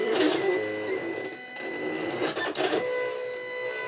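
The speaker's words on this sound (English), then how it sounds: "I am cutting out the gold metallic vinyl." A vinyl cutting machine slices gold metallic heat transfer vinyl, producing quick bursts of motorized whirring and ticking as the blade carriage darts back and forth, fairly close and moderately quiet.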